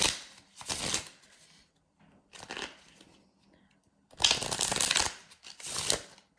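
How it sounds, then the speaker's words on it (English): A deck of playing cards being reshuffled by hand: four separate bursts of riffling, crisp flutters close up with short pauses between them and no talk. "All right, I'm gonna reshuffle."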